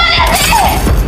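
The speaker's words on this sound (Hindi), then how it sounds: "एक जोरदार आवाज के साथ कांच छटक जाता है और फिर टूट जाता है।" Glass in a cabin window shatters with a loud, dense crash of breaking shards, a brief continuous burst of bright crackling and clatter over a heavy low rumble.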